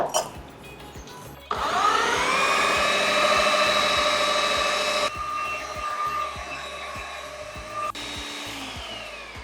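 A kitchen blender whirs through a jaggery and milk powder ice cream mixture, its motor suddenly spinning up into a loud, steady whine that shifts pitch midway, then drops lower near the end, with no voices.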